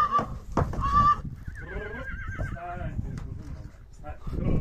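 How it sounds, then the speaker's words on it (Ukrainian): A mare whinnies loudly and close by, a wavering high call, with a person talking and another shorter neigh around it. "Чемна кобила."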